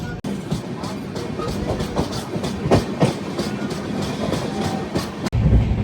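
The Mumbai–Chennai train with ICF coaches rushes past, a loud continuous rumble of rolling wagons with rhythmic clatter and brief sharp bangs at the start and end.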